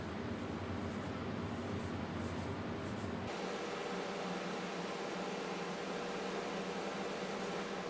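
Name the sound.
extraction fan running in an airbrush studio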